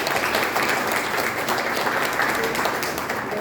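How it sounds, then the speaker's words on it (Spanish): Loud, sustained applause from an audience at a book presentation, steady dense clapping welcoming a linguist to the stage, filling the whole stretch without a break. "vamos a recibir con un fuerte aplauso a Pilar Valenzuela"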